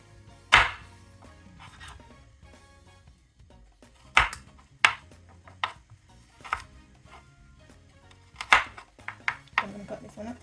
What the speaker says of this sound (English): I'm going to slice them into small pieces